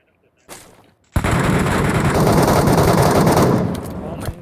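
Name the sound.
gunfire shooting a boss in Metro Royale video game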